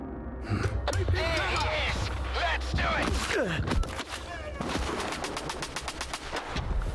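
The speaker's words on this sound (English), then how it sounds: "Two down. Yep, the armor piercing rounds are helping." Rapid bursts of automatic gunfire with armor-piercing rounds in the shooter S.T.A.L.K.E.R. 2: Heart of Chornobyl, sharp cracks scattered through a tense firefight, mixed with gasps and other combat noise.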